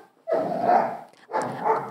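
A dog barks excitedly in two drawn-out, vocal bursts with a short pause between them, close and fairly loud.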